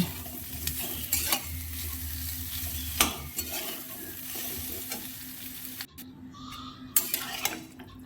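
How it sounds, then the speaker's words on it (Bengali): Fried cauliflower florets are tossed in a pan with salt and turmeric for a fish curry, with a steady sizzle under repeated scraping and clinking of a spatula against metal, close by, and a brief quieter pause near the end. "এবার ভাজা ফুলকপিগুলো এর মধ্যে দিয়ে লবণ হলুদ দিয়ে ভালো করে এটা কষে নিচ্ছি"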